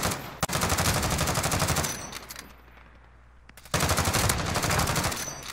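Gunfire in Call of Duty Warzone, a loud close burst of rapid shots that cuts out into a near-silent gap before heavy firing resumes.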